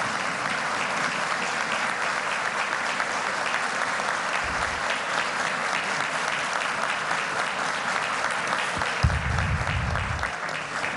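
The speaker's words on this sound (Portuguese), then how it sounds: "ganhar o aplauso desse auditório" A Brazilian auditorium audience breaks into sustained, dense applause that fills the room evenly for about eleven seconds, with a couple of brief low thumps near the end.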